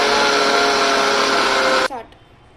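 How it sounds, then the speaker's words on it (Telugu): A kitchen mixer grinder whirs loudly and steadily, pulverizing flaxseed into powder, then cuts off abruptly with a short spin-down rattle near the end. "ఇంకొకసారి అయితే నేను మిక్సీ పడతా"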